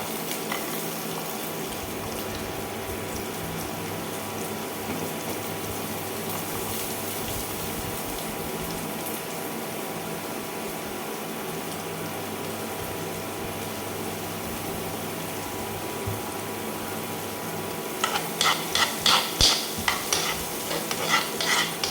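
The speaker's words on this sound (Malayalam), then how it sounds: "ഇതിലേക്ക് നേരത്തെ അരിഞ്ഞു വെച്ച സവാള ആഡ് ചെയ്യാം." Chopped onion fries in a pan with a continuous sizzling hiss, then a burst of rhythmic stirring scrapes near the end as the spoon works through it.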